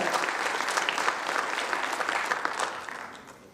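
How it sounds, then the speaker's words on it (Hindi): An audience claps steadily in a continuous burst of applause at a business meeting, honoring agents who achieved MDRT, loud throughout and fading slightly at the end. "ताली बजा दीजिए उन लोगों के लिए जिन्होंने किया है।"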